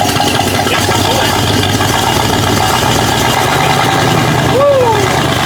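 An old Jeep left sitting for 25 years runs with a steady, rough engine rumble and idle drone that carries on without a break, up close and loud, with a brief squeal near the end.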